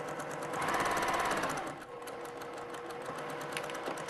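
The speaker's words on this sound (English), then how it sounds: "And I'm going to back stitch at the top." A sewing machine stitching a vinyl luggage tag runs in a steady, fast mechanical chatter, loudest in the first moments and then continuing at an even pace, close up with no talking.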